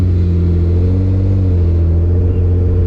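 A car creeps slowly along a road ahead of a jogger, its engine a loud, steady low rumble with a faint shifting hum, continuous and close, no voices.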